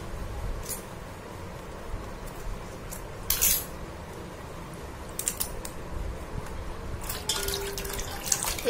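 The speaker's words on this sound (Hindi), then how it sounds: "अच्छा पानी लेके साफ करना है।" Tap water runs into a sink while a river crab is washed by hand, a steady splashing stream broken by sharp clicks and knocks of shell and utensils against the basin, close by and with no speech.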